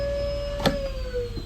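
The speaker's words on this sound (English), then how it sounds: "I didn't know this, but the vacuum still works." An RV's built-in vacuum cleaner in a 2007 National motorhome runs with a steady whining motor hum and a brief click partway through, close and continuous.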